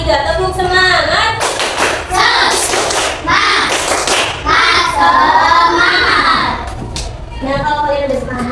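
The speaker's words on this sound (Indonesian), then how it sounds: "Mau tepuk semangat? Yuk, 1, 2, 3, tepuk semangat!" A class of fifth-grade elementary schoolchildren performs a rhythmic group clap, loud bursts of hand slaps in patterned sequences mixed with their chanting voices, pausing briefly between rounds.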